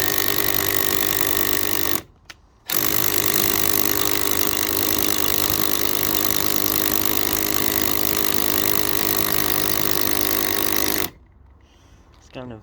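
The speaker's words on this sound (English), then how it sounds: "all I'm going to do is drill through" A steady, loud power tool whir runs almost continuously, cutting out briefly once and stopping near the end, like a drill boring through wood.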